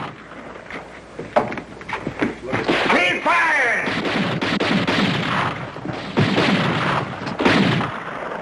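Video game artillery cannons boom in a series of loud, heavy blasts with echoing tails, firing repeatedly across the stretch while soldiers' voices call commands between and over the shots.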